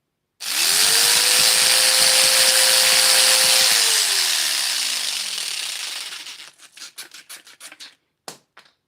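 A metal cutting saw spins up and cuts with a loud, steady grinding whine for several seconds, then winds down and stops, followed by a few short scraping bursts.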